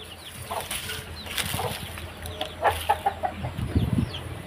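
Chickens cluck in short, scattered bursts nearby, with a few louder clucks toward the end against a quiet outdoor background in a forest village without electricity.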